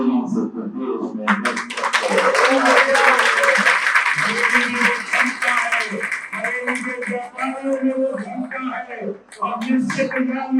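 A large crowd at an oath-taking ceremony for a youth unit breaks into loud, sustained applause for several seconds, then it fades under someone speaking over a public address system.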